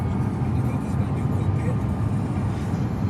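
Range Rover and Aston Martin V8 Vantage on a morning road trip through Scotland, a steady low road and engine rumble heard from inside a moving car, with a voice talking over it.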